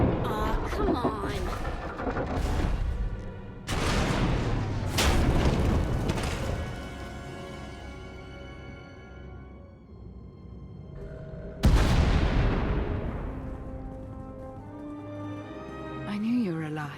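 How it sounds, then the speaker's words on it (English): Heavy booming explosions erupt in Star Wars: The Old Republic, several deep blasts with long rumbling decays, separated by quieter stretches and mixed with game music and dialogue. "We heard explosions."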